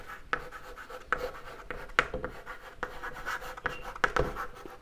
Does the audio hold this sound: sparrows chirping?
no